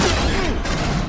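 Pulse rifle fire from the Aliens: Colonial Marines shooter, a steady dense burst of rapid shots running through the whole moment under busy game noise and a faint voice.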